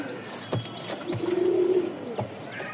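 A large pigeon gives a low, soft coo lasting under a second, close by, with a few faint clicks and rustles around it.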